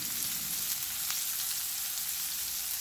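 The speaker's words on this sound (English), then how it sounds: "Here I am adding some chopped onions." Chopped onions frying with asafoetida in a pan for a purslane dish, a loud, dense, unbroken sizzle that holds steady throughout with no talking.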